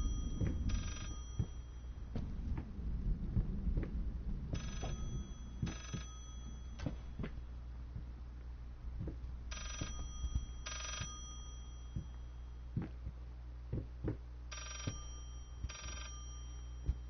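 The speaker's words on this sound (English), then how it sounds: "My phone is ringing." A telephone rings in the horror video game Layers of Fear, a loud repeated bell in paired bursts at regular intervals over a low droning ambience, with no voices.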